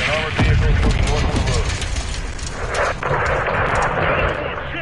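Heavy gunfire and artillery blasts from a PS4 war game keep up a dense, loud battle din, with voices shouting over the combat.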